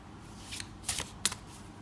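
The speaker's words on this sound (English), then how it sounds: "Let's lay out one more card here for you" Tarot cards shuffled and laid out, a few quick soft riffling flicks and a sharp snap of a card placed down, close and quiet.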